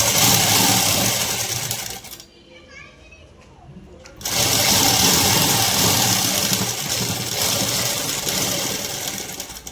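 A sewing machine stitches the front of a jacket, a loud, close, steady motor whir that stops for about two seconds and then starts again, with a voice talking over it.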